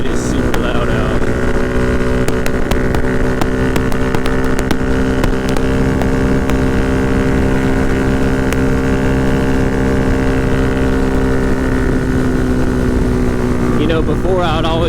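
Loud, droning engine of a motorcycle fitted with a DHM 149cc big bore kit while riding, a steady roaring hum with constant wind buffeting close to the microphone.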